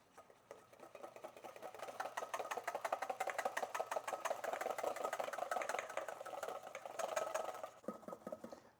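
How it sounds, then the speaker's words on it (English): A whisk beats egg whites with cream of tartar toward stiff peaks in a bowl, a rapid, steady clatter of metal tines that runs continuously before stopping abruptly near the end. "now we're just gonna whisk until we have stiff peaks"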